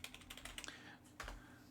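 Computer keyboard keys clatter in quick, uneven bursts of taps, close but very quiet, with no speech over them.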